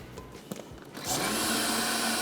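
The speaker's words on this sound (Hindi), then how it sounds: "तो खूब अच्छी तरीके से ब्लेंड कर लिया।" Blender whirring up to full speed, blending milk and cream for a drink; after a second of lower noise and clatter, the motor settles into a loud steady whine.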